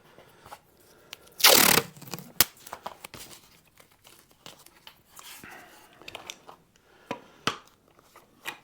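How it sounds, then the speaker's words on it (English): Masking tape torn from the roll and pressed onto an ES 339 guitar during a Bigsby vibrato fitting: one loud ripping tear, then soft crinkles, taps and handling noises close by. "I'm just going to stick a few bits of masking tape on here, I think."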